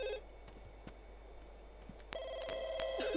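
A telephone rings in The Sims 2, its tone starting about two seconds in and repeating as a steady electronic trill over a faint game background hum.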